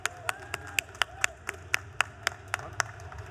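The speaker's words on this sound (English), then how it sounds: "Give them a big round of applause." Scattered claps from a small audience, sharp individual hits at a steady pace rather than a full roar of applause.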